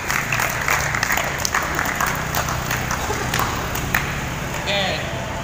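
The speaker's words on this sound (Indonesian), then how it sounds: "Tepuk tangan" Classmates clap for a student during a school physical education lesson on hurdles. The clapping is lively and scattered and continues throughout, while people talk over it.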